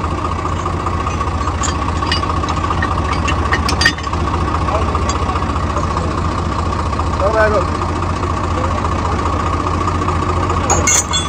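Swaraj 855 tractor engine running steadily, a continuous low diesel throb close by with little change in rhythm over the whole stretch.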